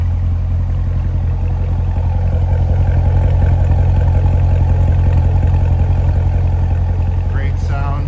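A 2015 Chevrolet Corvette 3LT coupe idles close by with a loud, steady low rumble and faint mechanical clatter, holding an even tone throughout.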